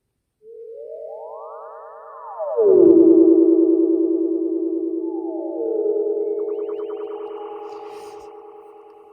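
A synthesizer produces a swooping space noise with heavy echo, rising and falling pitched tones that ring on and slowly fade, alone with no voices.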